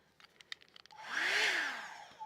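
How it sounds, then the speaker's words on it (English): After a few soft clicks and taps, a hair dryer on its cool setting whirs on, its airy roar swelling and holding steady before cutting off abruptly. "Let's hit this with the hairdryer on cool"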